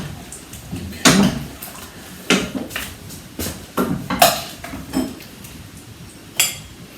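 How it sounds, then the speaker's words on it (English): A wooden spoon stirring a pot of sweet potato curry, with a series of irregular soft knocks and scrapes against the pan, spaced a second or so apart over a quiet background. "I'm going to stir it through with my wooden spoon"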